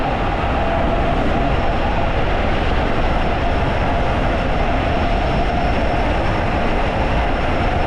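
A 72V 5000W Enduro Stealth Bomber electric bike rides at half throttle on an icy night commute, giving a steady, loud broadband rumble of wind and road noise with a faint constant whine, continuous and without pauses.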